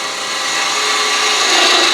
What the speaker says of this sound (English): now I'm going to switch to a spindle gouge, and I'm going to just make a large bead.